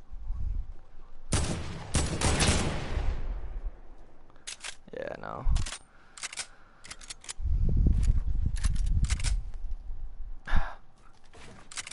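Bursts of video game gunfire, several loud sharp shots clustered in quick runs with pauses between them, mixed with someone talking over the action.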